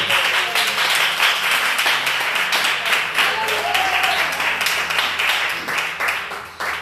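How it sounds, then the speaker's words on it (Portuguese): A congregation at an evening church service in Portuguese claps together in dense, lively applause that holds steady for nearly seven seconds, with faint voices underneath. "Podemos aceitar com alegria na sua alma e aplaudir ao Senhor com alegria."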